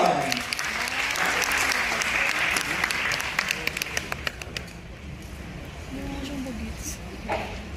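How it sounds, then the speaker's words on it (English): Applause rises from a crowd at an HR symposium and gradually thins into scattered claps, with birds cooing and a voice speaking faintly underneath. "a round of applause for Miss Dana Maharokon."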